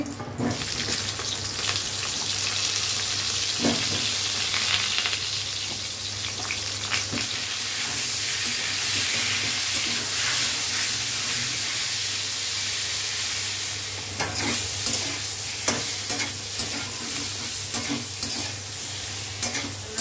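Cut pointed gourd (potol) with a little salt frying in a pan, giving a steady, even sizzle for the whole stretch, with repeated scraping and clicking as the pieces are stirred.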